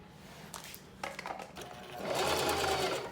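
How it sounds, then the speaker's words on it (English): Sewing machine stitching fabric with a back stitch, short mechanical bursts followed by a louder continuous whirring run, close by. "So you sew, go ahead, back stitch."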